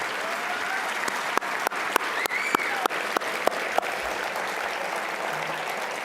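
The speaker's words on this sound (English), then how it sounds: "we can give them a round of applause as well." Sustained applause from a luncheon audience honoring library staff, a dense, steady wash of clapping filling the room for several seconds, with a few sharper individual claps standing out near the middle.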